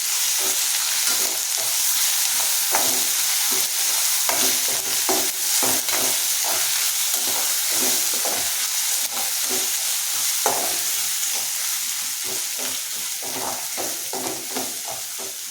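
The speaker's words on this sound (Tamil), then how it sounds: "நல்லா பச்சை ஸ்மெல் போகிற வரைக்கும் வதக்கி விட்டுக்குவோம்" Steady sizzling and frying of ginger garlic paste in a pan, with frequent scraping and stirring clicks throughout, close and continuous.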